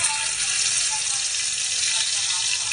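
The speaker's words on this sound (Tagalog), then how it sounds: "Kaya nga guys, magigisa na tayo" Chili peppers sizzle and sauté in a small amount of cooking oil, a steady bright hiss that holds loud and close throughout without pause.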